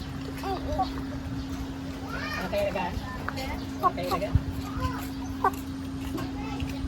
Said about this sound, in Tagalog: Orpington chicken